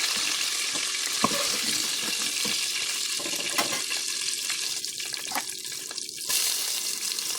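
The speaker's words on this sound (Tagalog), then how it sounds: "Tapos, gisaon tayo yung bawang." Garlic sizzles as it is sautéed in a pan for chicken curry, giving a steady close hiss with occasional stirring clicks and scrapes.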